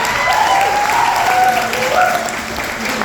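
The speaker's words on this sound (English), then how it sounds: "give Noah Goebel a nice round of applause" A crowd claps steadily and loudly in sustained applause, with scattered whoops and voices mixed in.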